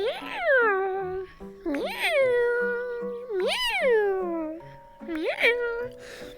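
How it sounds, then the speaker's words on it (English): A cat gives a series of four or five loud, drawn-out meows close by, each rising then falling in pitch, with short pauses between them. "Oh, we got a meow."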